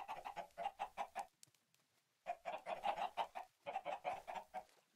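Chickens in the video game Minecraft cluck in quick repeated bursts, two or three short runs of pecking cackles separated by brief pauses, fairly close and with no talking.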